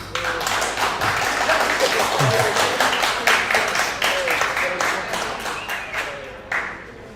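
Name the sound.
audience applause for the Buffalo Bills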